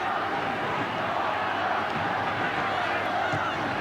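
A crowd of over 22,000 at a rugby league final between Balmain and St. George roars in a dense, steady wash of cheering, with a commentator's voice over it.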